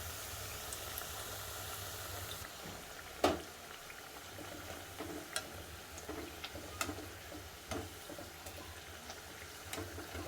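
Bottle gourd fritters fry in a pan of hot oil with a soft, continuous bubbling sizzle. Scattered sharp pops and ticks stand out, and one louder crackle comes near the start.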